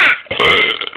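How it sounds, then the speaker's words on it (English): A loud, drawn-out human burp lasting about a second, with a brief break and a short second belch at the end, close and alone. "Who's ready for my burping?"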